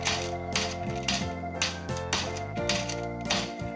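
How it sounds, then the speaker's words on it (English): A pork chop covered with parchment paper is pounded with the smooth side of a meat mallet, giving a steady run of close, firm thuds spaced about half a second apart with no talking. "Then we start pounding on it using the smooth side of our mallet."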